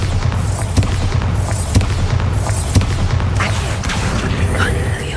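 Bombarda spell explosions in the Hogwarts Legacy video game go off as a series of sharp booming blasts, roughly one per second, over a dense, noisy battle background.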